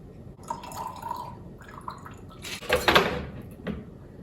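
Strained Jammy Mule cocktail pours into a glass, a close splashing trickle that swells to a fuller gush near the end before tapering off, with no one talking.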